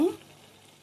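Gongura chicken fries in a pan with a steady, quiet sizzle after a brief louder burst at the start.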